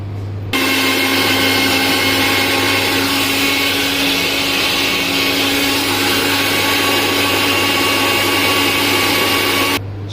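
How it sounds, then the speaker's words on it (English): An electric kitchen blender grinds tomatoes for a sweet corn curry, a loud, steady motor whine that starts abruptly after a short pause, holds constant for several seconds, and cuts off sharply at the end, with no talking. "now we have to grind our tomato also"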